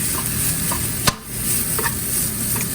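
Fried rice with vegetables stirs and sizzles steadily in a pan in a small home kitchen, a loud close hiss with a few scraping stirs and one sharp clack.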